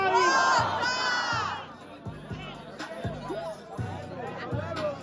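Crowd cheering and shouting at an outdoor freestyle rap battle on a street promenade, a loud burst of whoops at the start that settles into steady crowd noise with rhythmic beat thumps underneath.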